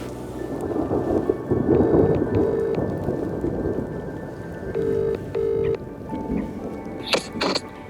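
A thunderstorm over a lake, with steady rain pattering on surfaces and deep rolling thunder through the whole stretch, loud and close, a few sharp electronic tones breaking in near the end.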